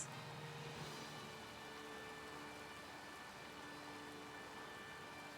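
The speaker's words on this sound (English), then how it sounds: "Ooh, look, it's raining." Steady rain falls in Pokemon Violet, a soft even hiss of drops that stays constant and faint throughout, with no voices.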